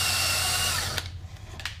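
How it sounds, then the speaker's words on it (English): A power drill whirs steadily into pallet wood for about a second, then stops, leaving faint scraping and handling noises. "So I'm just gonna drill"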